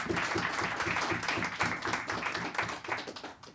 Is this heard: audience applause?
yes